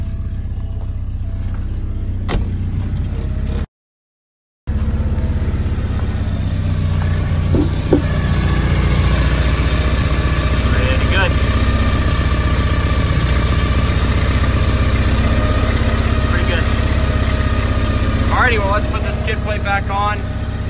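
A Porsche 944 engine idles steadily just after starting, a continuous low mechanical hum running under intermittent nearby talk, with a brief dropout early on.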